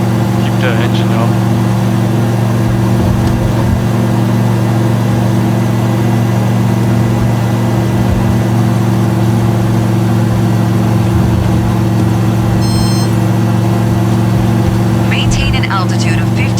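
Bush plane engine in Microsoft Flight Simulator 2020 droning steadily throughout a climb, a loud constant low hum with someone talking over it.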